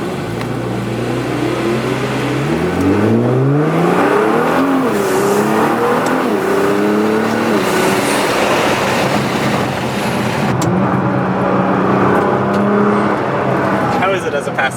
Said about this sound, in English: the R8, it does sound good in the stock form